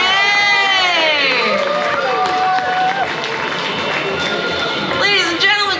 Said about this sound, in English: Let's give a big round of applause for the lovely Miss